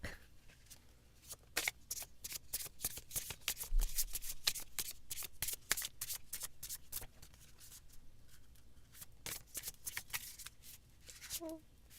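A deck of Magic Morsels oracle cards being shuffled by hand, a long run of rapid riffling snaps and flutters close up, with a brief bit of talk near the end.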